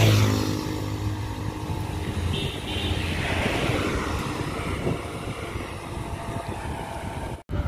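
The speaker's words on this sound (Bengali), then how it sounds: "একটু আগেই এই বাইকটা যাচ্ছিল, এখনও ফের।" A motorcycle's engine drones past on a road, loudest at the start and then fading, under steady wind rush from a moving rider.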